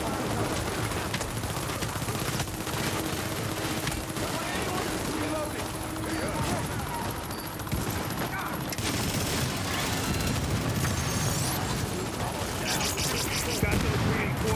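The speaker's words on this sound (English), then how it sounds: "Shit, he just fired a missile at me" Missile fire and sustained gunfire from a helicopter fight in the shooter game The Division, dense bursts of shots and booms layered continuously under tense player voice chat.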